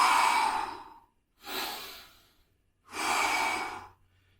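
Three long, heavy exhalations after a burst of exercise, each a loud breathy sigh separated by brief pauses, close to the mic.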